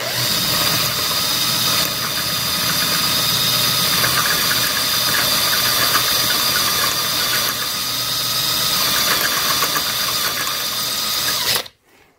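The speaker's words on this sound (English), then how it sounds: "I don't want to snap the drill bit off in here." A drill bit boring into a Suzuki DR200 motorcycle frame, a continuous whining, grinding drill run held for about eleven seconds close to the mic before it cuts off abruptly.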